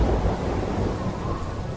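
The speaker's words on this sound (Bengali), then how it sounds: "বৃষ্টিটা বেশ জোরেই নেমেছে, আর তার সঙ্গে মাঝে মাঝে মেঘের গর্জন আর বিদ্যুতের চমক" Heavy rain pours steadily while a deep rumble of thunder rolls underneath, loud and continuous for the whole short stretch.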